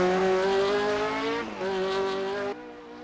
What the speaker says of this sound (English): With blistering acceleration, the Lotus devours the back straight, a roaring masterpiece